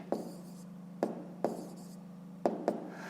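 A pen writes answers into a 5th-grade math exercise book at close range, with a few soft taps and short scratchy strokes spaced about a second apart in a quiet room, no talking.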